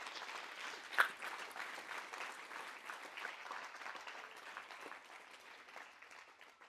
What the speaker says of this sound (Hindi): जोरदार तालियां सबके लिए।